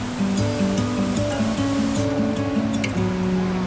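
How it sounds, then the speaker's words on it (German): Water from the diverted Amblève river in the Belgian Ardennes pours over a stone edge, a steady broadband rush that runs unbroken throughout, with melodic tonal notes layered over it. "Seither fällt das Wasser nun eben über diese Kante."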